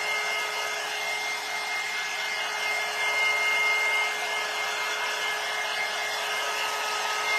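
A hair dryer blows steadily on a handmade wooden heart wreath, a continuous broadband whoosh with a fixed motor whine, loud and close throughout with no talk.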